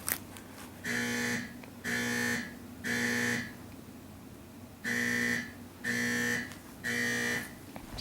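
An electronic alarm buzzes in repeated pulses, three blasts, a pause, then three more, in an even rhythm.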